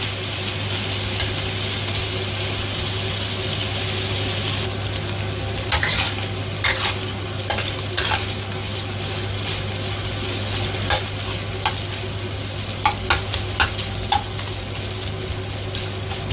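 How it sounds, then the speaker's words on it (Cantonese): Bacon sizzles steadily in a hot wok for a stir-fry of baby Chinese cabbage with dried mushroom and dried shrimp, a constant close hiss with occasional light clicks and scrapes of stirring, and no talking. "咁所以等佢煎一煎佢"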